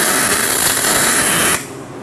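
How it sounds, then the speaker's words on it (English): A weld bead laid and weaved along an inside corner angle seam: a dense, steady crackling hiss that holds close and loud, then cuts off abruptly just before the end. "now I've completed welding the second inside corner angle."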